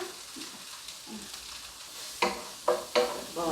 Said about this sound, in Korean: 약한 불로 이렇게 볶아주세요.